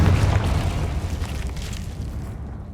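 A Confringo spell explosion in Hogwarts Legacy: a heavy low boom at the start that rolls into a fading, crackling rumble over a couple of seconds, no voices over it.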